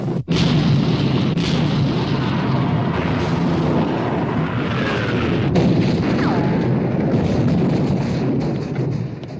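Naval gunfire against the German battleship Bismarck in a 1960 war film: heavy, continuous booming and rumbling battle noise, loud throughout, with sharp blasts near the start and around the middle.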